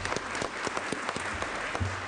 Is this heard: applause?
yes